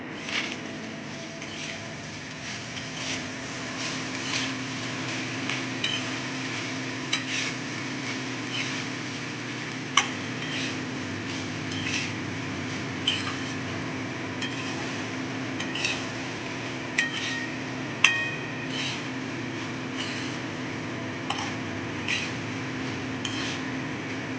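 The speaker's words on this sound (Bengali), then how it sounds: "সবজিগুলো এবং নুন আর গোলমরিচের সঙ্গে ভাতটা খুব ভালোভাবে নেড়ে চেড়ে মিশিয়ে নেব" A utensil stirs leftover rice with vegetables, salt and pepper in a pan, giving steady scraping with regular light metallic clinks and taps spaced a second or two apart, with no speech.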